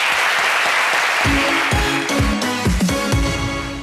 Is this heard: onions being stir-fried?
no